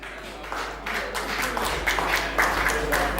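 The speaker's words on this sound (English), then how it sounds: "Give her a round of applause for Sophia." Audience applause for a performer named Sophia at a live event, a steady patter of clapping that swells and holds for a few seconds, moderately distant with no voices on top.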